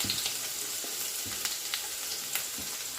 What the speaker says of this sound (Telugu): ఎక్కువ వేగక్కర్లేదు వెల్లుల్లిపాయలు